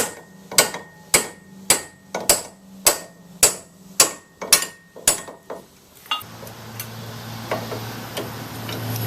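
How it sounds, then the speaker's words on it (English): A hammer strikes a pickle fork to separate a ball joint from the steering knuckle on a 2002 Ford Focus, about ten sharp metallic blows in steady rhythm, then a lower rumbling clatter. "Take our pickle fork and separate the ball joint from the steering knuckle."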